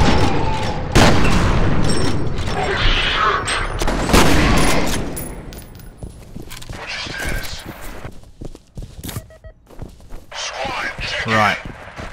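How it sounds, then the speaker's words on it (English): Gunfire in the video game F.E.A.R., loud booming blasts and rapid shots in a dense, chaotic mix, with a person talking over the action. "Shotgun!"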